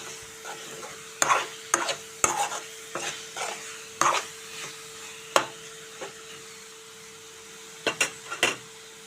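Chili powder and prawn masala frying over a low flame while a spoon stirs and scrapes the pan in a run of sharp clinks, the sizzle faint underneath with no talk.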